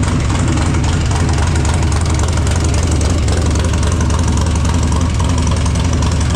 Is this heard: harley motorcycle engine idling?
yes